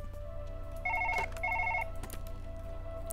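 A trilling telephone ring sounds twice in quick succession in the video game Surgeon Simulator 2013, followed by a few clunks and a continuing low ambient hum.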